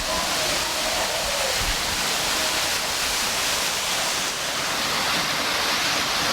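Steady roar of a waterfall, a dense, continuous rush of falling water that fills the whole stretch loud and unbroken, with no voices over it.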